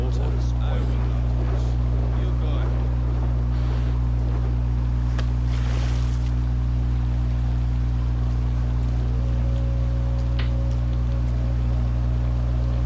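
Rain falls steadily in the video game Assassin's Creed Valhalla, a constant soft hiss beneath game sounds and a voice talking, with a steady low hum throughout.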